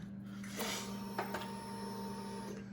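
Switching on the ignition of a 2020 Triumph Street Triple RS 765 brings a faint, steady electric whir and hum, with a couple of soft clicks.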